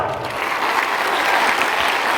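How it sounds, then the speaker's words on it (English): Loud, steady applause from a crowd at a Bharatanatyam workshop, many hands clapping continuously and densely throughout. "और तेज ताली बजाओ."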